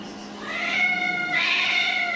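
A cat gives a drawn-out, whining meow that swells twice, close and fairly loud, with no voices over it.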